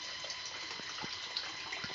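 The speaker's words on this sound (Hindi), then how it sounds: "तो अब मैं इसमें पानी डालूंगी।" Water streams steadily into a cooking pot for chicken soup, with a soft, continuous splashing hiss, fairly quiet and close, with faint bubbling blips.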